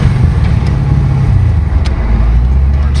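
A 1000 HP twin-turbo Callaway Corvette built by Nelson Racing Engines cruises on the street, its deep engine rumble loud and steady throughout with no talk.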